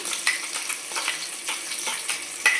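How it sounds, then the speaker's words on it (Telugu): Onions frying in a pan with ginger paste just added, a continuous bright sizzle with soft, repeated stirring scrapes every half second or so, close and fairly loud, no voices. "అల్లం పేస్ట్ వేస్తున్నా. ఆనియన్స్ ఇట్లా ఫ్రై అయినాయి."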